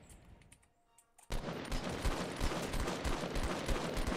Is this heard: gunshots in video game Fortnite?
yes